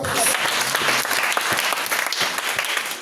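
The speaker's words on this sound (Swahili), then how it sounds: "Mwambie ndoto yako itimie. Piga Yesu makofi" Energetic applause fills a church congregation, dense and steady hand claps sustained throughout with no voices breaking through.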